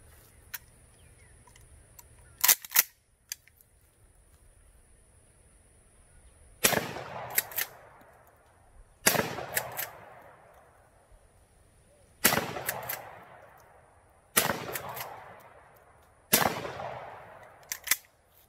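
A Winchester Model 42 .410 shotgun loaded with number 9 shot fires five sharp reports spaced a few seconds apart outdoors, each crack followed by a fading echo, over quiet background.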